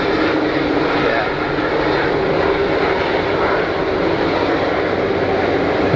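The auxiliary power unit of an Airbus A330 at Geneva Airport gives off a loud, steady drone with a constant whining hum, unbroken for the whole stretch.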